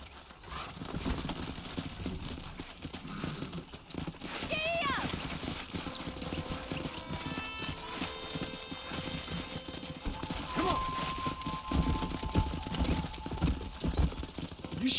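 Horse hooves clip-clop steadily in Red Dead Redemption over a busy background with faint voices and a brief whinny-like cry, the rhythm continuing throughout.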